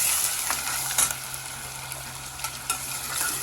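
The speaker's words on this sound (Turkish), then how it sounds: "Etini kızartacağız." Loud, steady sizzling of meat frying in a pot for a meat and dried bean stew, with occasional stirring clatter, close up and continuous.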